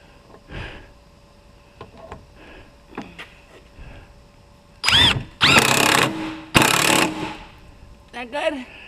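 Bursts from a power impact wrench tightening bolts on a Jeep come in several loud, short runs late on, between quieter clicks and handling noises, with voices talking nearby.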